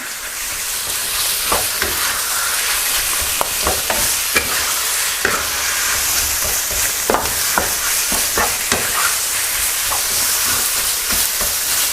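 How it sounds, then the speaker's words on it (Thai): Boneless pork leg meat, about half a kilo, stir-fried in a pan for a spicy Thai dish: a steady loud sizzle with repeated clicks and scrapes of the spatula tossing the meat, no talking. "ผัดคลุกเคล้าให้เข้ากันเลย"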